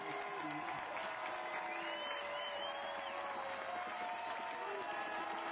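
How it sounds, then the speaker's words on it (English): A high school football crowd at a Friday night game between Choctaw and Niceville roars and applauds, a dense continuous wash of cheering with a voice talking over it. "And here comes the crowd."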